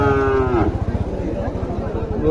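A crossbred cow at a cattle market in Mahadevpur, Naogaon, gives a loud, close moo that slides down in pitch, followed by rhythmic low thumping and farmyard noise.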